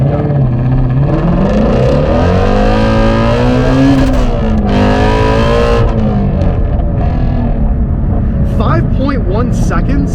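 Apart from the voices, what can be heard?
Shelby GT350 manual car accelerating hard from launch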